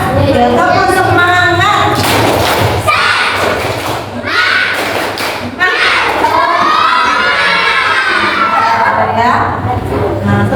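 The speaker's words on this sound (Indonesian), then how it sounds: "kita tepuk semangat dulu ya, biar tambah semangat" Children in a classroom perform a rhythmic spirit clapping chant, loud and close, with shouted voices, thumping claps and lively crowd noise throughout.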